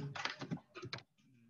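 Quick bursts of keystrokes on a computer keyboard as a search is typed into Google, irregular clusters of clicks close up, then a brief pause with faint background hum.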